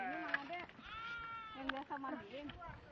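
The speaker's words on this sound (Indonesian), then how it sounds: "Mandiin domba." Several sheep bleating while being bathed, wavering calls repeated close by over a quiet background.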